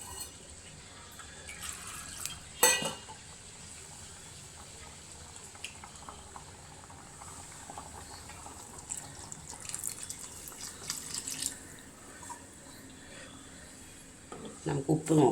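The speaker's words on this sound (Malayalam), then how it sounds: "വെള്ളം വേണം അതിനകത്ത്." Water poured into a clay curry pan already holding a curry with ground spice paste: a splashy, trickling pour in the middle stretch, with scattered clinks and a voice talking around it.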